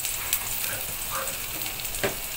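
Garlic frying in a pan for simple fried rice, a steady soft sizzle with a few faint stirring clicks, close and alone with no talk.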